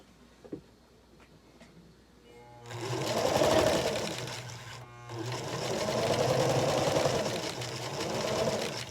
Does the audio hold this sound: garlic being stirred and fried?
no